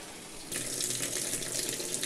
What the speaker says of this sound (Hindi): जैसे कि आप देख पा रहे हैं पानी अंदर आ रहा है